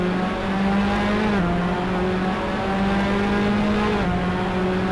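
Race cars in a sim racing video game roaring down the back straight of the Montreal circuit, a loud continuous engine drone with shifting pitch and gear changes, no voices.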